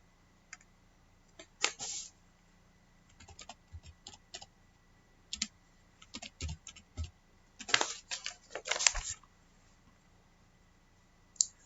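Someone types on a computer keyboard, entering a student number and password, in irregular bursts of crisp, close keystrokes separated by short pauses.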